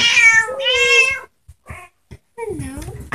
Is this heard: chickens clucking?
no